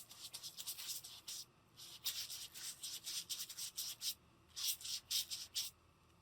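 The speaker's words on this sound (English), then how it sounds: "rub the paint." Paint is rubbed by hand onto a Christmas ornament in close, rhythmic scratchy strokes. The strokes come in quick bursts separated by short pauses.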